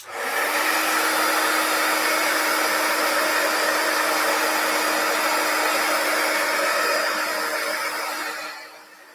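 A heat embossing tool blows a steady, loud, hair-dryer-like whoosh over a silicone mat for about nine seconds, then cuts off at the end.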